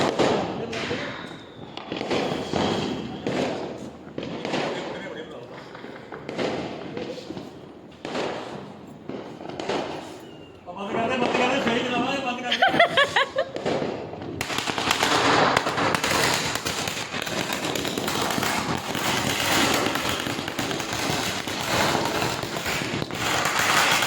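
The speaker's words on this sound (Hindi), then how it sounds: "ऋषभ ने आलू बम चला दिया तो ये दोनों डर गए एकदम से" Firecrackers burst repeatedly during a Diwali celebration, sharp cracks in an irregular series that give way to a dense, continuous crackling string, loud and nearby, with voices heard faintly.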